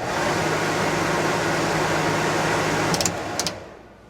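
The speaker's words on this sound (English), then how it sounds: "now let's go ahead and fire up the compressor" A Coleman Mach RV rooftop air conditioner runs with a steady broadband hum and low drone, followed by a few sharp clicks before the noise drops away.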